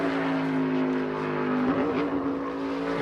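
A NASCAR race car at practice for the Goodyear 400 drops a gear, its loud engine tone dipping and wavering in pitch mid-clip before settling back into a steady roar.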